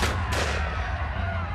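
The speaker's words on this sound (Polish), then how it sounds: "padły strzały." Gunfire in a documentary about the Greater Poland Uprising, with shots outside the Bazar hotel in Poznań: two sharp loud bursts close together at the start, each trailing off into a long rumbling echo.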